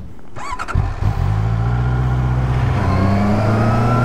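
A 2024 QJ Motor SRK 800 RR motorcycle accelerates on small country roads in Burgundy, its engine revving up from a quick blip into a sustained, rising drone heard close over steady wind noise.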